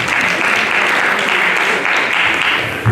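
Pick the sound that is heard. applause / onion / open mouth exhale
applause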